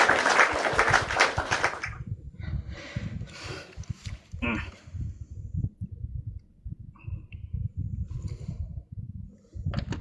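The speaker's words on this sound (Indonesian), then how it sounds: "Tepuk tangan." Audience applause at a religious talk event, a dense burst of clapping for the first two seconds, then scattered claps, shuffling and voices.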